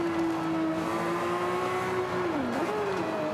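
A race car engine in the Xbox One game Forza Motorsport 5 drones loudly and steadily under throttle, its pitch dipping briefly and then climbing again, with no talk over it.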